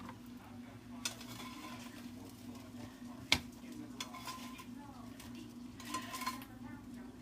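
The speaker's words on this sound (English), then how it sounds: "Let's come back over to the counter now so we can cut up these eggs together." Knife cutting cooked eggs on a cutting board at a kitchen counter: faint, sparse taps and one sharper knock of the blade against the board over a steady low room hum, with quiet handling noises in between.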